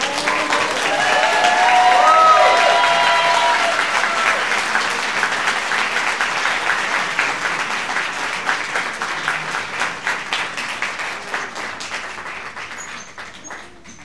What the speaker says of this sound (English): Round of applause for Lucy.